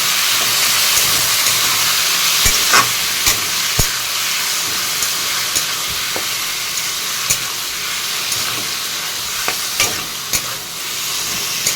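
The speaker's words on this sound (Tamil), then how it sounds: "இப்போ வந்து தக்காளி போட்டுக்கலாம் மிக்ஸ் பண்ணிக்கலாம்" Tomatoes sizzle and hiss steadily in hot oil for tomato rice, with a constant frying crackle broken by sharp clicks and scrapes of a spoon stirring against the pan, close and loud, with no one speaking.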